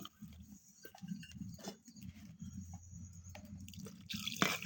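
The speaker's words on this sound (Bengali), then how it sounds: "মরিচের বাটিটা ধুয়ে একটু পানি দিয়ে দিচ্ছি" Water is poured from a bowl that held chili, to rinse it. Faint, intermittent drips and small splashes sound close by and quiet, ending in a slightly louder pour.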